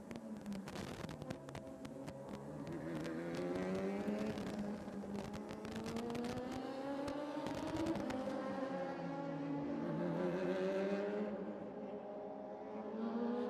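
Radical race car in a Gulf Radical Cup sprint race at Yas Marina Circuit, its engine droning steadily with rising and falling pitch, loud and continuous throughout.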